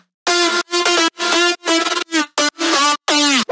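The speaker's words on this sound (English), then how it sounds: "Then a flanger effect." Future house synth lead drop with a flanger effect: choppy, loud stabbed notes in a rapid rhythmic pattern with sweeping harmonic comb motion, ending on a pitch-bent final note, no talking.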